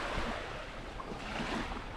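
Surf at Buye Beach rolls in as a steady broadband wash of waves mixed with wind buffeting the microphone, with no talking.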